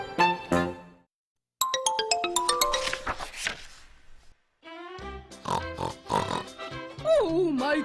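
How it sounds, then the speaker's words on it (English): Pig oinking on a farm: grunting oinks in short bursts, close and loud, mixed with bright tonal sounds and a voice-like passage near the end. "This pig is big."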